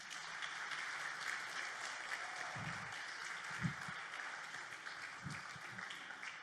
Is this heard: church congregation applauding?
yes